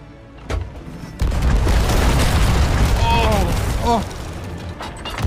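Ship cannons booming in the pirate game Sea of Thieves, with heavy blasts and rumbling impacts over a dense, loud battle mix while excited players shout.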